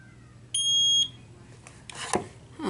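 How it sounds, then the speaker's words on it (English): An LED nail lamp timer gives a single clear, high electronic beep lasting about half a second, followed by faint rustling and handling noise. "it's going to beep in 30 seconds"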